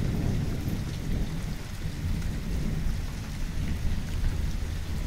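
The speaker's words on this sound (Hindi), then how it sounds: "बहुत देर से बारिश हो रही है।" Steady heavy rain pours down at Tada Khet, a dense continuous hiss with a low rumbling undertone throughout.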